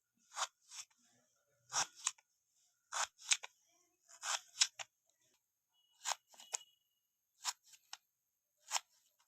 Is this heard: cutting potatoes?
yes